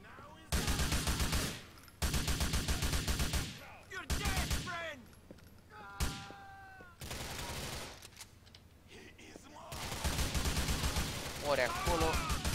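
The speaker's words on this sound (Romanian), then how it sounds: "Și acum vezi că dă mare explozie" Bursts of rapid automatic gunfire in long volleys in GTA IV, broken by shouted voices and a sharp explosion, loud and chaotic throughout.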